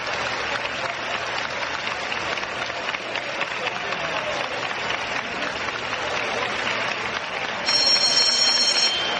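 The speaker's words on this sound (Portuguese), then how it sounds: "Aplaudido pelos componentes da Frente Liberal" Members of the Frente Liberal applauding Tancredo Neves' 1985 election as president of Brazil, a sustained, dense roar of clapping in a large hall that continues evenly and swells louder near the end, joined by a ringing bell.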